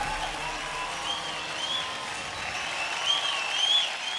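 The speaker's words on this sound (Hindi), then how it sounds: "एक बार जोरदार तालियां।" Applause from a television dance-show audience, steady and sustained throughout with a dense wash of clapping and no voices on top.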